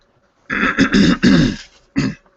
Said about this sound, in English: Forgive me for clearing my throat.